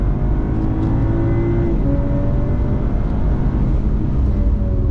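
A BMW M240 powers out of a corner on the Spa racetrack, its engine droning loud and steady from inside the cabin, with several gear-linked tones rising together under a constant rumble.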